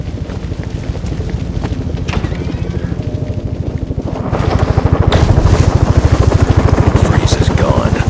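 A helicopter in the video game Batman Arkham Origins, its loud rapid rotor chop thumping steadily throughout and growing heavier midway, with a voice speaking over it.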